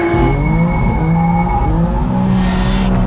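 A Ferrari 458 Italia and a BMW M2 on a race track: a loud, close engine drone with shifting pitch and tyre squeal runs steadily throughout, cutting off abruptly at the end.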